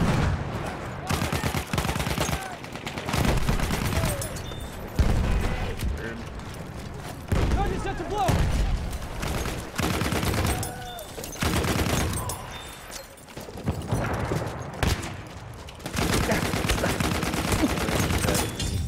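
Enemy machine gun fire in the Battlefield 1 video game, rapid bursts of gunfire and heavy fusillades clattering loudly and almost without pause, with explosive booms, mixed under shouted talk.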